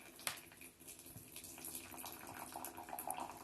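Water poured slowly from a kettle for tea, a steady trickling stream that runs continuously at moderate level with no talk over it.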